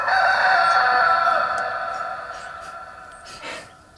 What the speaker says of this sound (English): Mr. Cockerel. This is who woke me up this morning in bed.